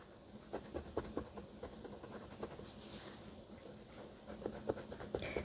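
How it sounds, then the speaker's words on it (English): An eraser rubs back and forth over a pencil drawing on paper, a faint, close scratchy scrubbing in short uneven strokes with no voices. "let's just erase."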